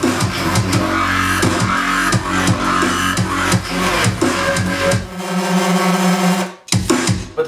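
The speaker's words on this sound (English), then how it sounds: "I'm basically remixing it into a drum and bass drum step type sounding thing that sounds like this." A drum and bass drumstep remix pounds along loudly with punchy kicks, snappy snares and a thick bass layer, then drops into a sustained synth tone before the beat briefly returns.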